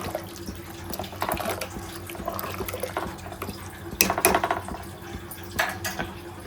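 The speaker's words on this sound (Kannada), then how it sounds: "ನೋಡಿ ನೀರು ಹಾಕ್ಕೊಂತೀನಿ ನಾನು" Water is poured into a cooking pot while making horse gram sambar: uneven splashing and trickling in several bursts, fairly faint and close, with light clinks of the pot.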